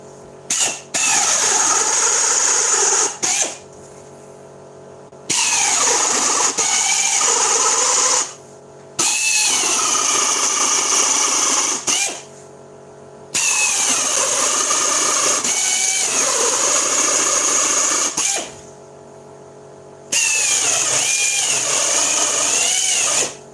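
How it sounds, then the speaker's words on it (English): A pneumatic air drill runs in loud, screaming bursts of several seconds each during woodworking on a small barn door, separated by short pauses with a quieter background hum. "Very good, these air drills."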